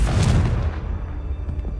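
A Confringo fire spell erupts in Hogwarts Legacy with a heavy, booming blast that fades into a rumbling tail, loud and close.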